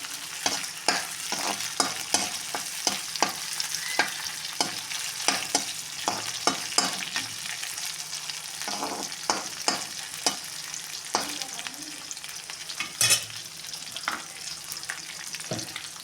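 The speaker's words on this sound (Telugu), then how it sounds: "ఉల్లిపాయలు, కరివేపాకు, పచ్చిమిరపకాయలు. చాలా స్పీడ్గా అయిపోతుంది. ఇవి బాగా ఫ్రై అవ్వాలి." Onions, curry leaves and green chillies fry in hot oil for a potato and cauliflower curry, with a continuous close sizzle broken by frequent scraping stirs in an irregular rhythm, with no talking.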